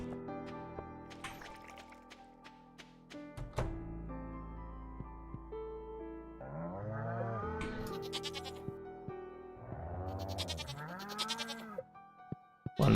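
A goat in the Stardew Valley farming game lets out several clear, nasal bleats in separate bursts, some rising and falling, among soft thunks and tonal game sounds.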